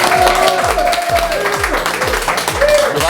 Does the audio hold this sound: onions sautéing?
no